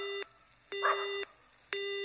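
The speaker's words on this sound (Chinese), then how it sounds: "还是通话中啊" A telephone busy signal in a Chinese animated comedy scene: a steady electronic tone sounding in three evenly spaced pulses with short gaps between them, clear and alone with no voices.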